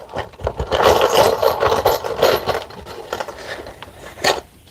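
Screws driven into a plywood board against a 2x4 at a wall, a close whirring drill drone in bursts with grinding and rattling, ending in a short final buzz.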